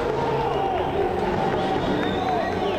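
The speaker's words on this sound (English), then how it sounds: "he is asking the crowd, get behind me, get clapping" A stadium crowd at a para athletics world championship in New Delhi, a broad continuous roar of voices and cheering with clapping mixed in, steady and loud without a break.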